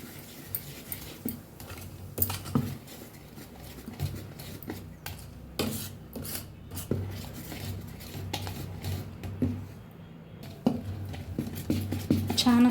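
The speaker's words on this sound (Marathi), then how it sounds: "थोडंसं मीठ टाकूया मिक्स करून घेऊया सगळं" A spoon clinks and scrapes against a bowl while dosa batter with salt is mixed, irregular sharp knocks over soft stirring, fairly quiet and close.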